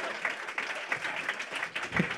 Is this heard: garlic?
no